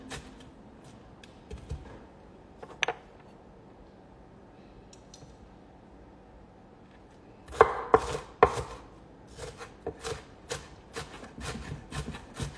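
Onions are chopped with a knife on a cutting board while garbanzo bean chili is being made. A quiet stretch gives way to a run of sharp, close chopping strikes in quick, uneven succession.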